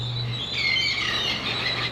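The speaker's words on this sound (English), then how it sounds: "Apparently the birds are really, really loud, especially in the night." Birds chirping outdoors at night, a busy overlapping chorus of high tweets over a low steady hum, continuous and moderately loud.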